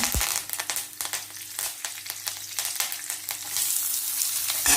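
Mustard seeds, cumin and curry leaves sizzling in hot oil, a steady crackling fry with sharp pops and spits, fairly quiet and close, with no talking.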